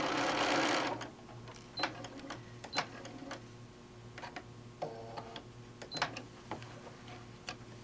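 A sewing machine with a dual feed foot stitching fabric, heard as a brief burst of rapid mechanical stitching followed by scattered clicks and ticks of the machine and handling, close and fairly quiet.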